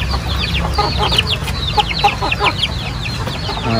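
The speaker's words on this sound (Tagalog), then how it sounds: "Daming mga sisi rin dito. Nakakulong." Native chickens and chicks cluck together inside a cage, with busy overlapping chirps and clucks over a steady low rumble of background noise.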